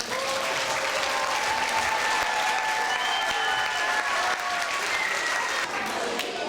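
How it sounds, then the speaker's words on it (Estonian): A charity playback show audience applauds its participants in steady, full clapping that holds for several seconds in a hall, dense and fairly loud with a faint murmur underneath. "Täname siis kõiki osalejaid ja teeme neile suure aplausi."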